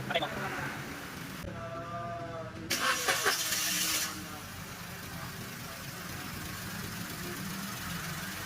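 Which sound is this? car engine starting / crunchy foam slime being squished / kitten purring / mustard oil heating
car engine starting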